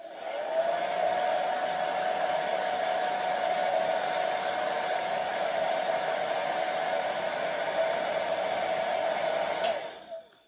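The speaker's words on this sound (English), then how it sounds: "just use a hairdryer. So by giving that a quick blast," A hair dryer blows steadily to dry paint on a craft bookend, a loud, even whoosh with a constant motor hum that runs the whole time before cutting off at the very end.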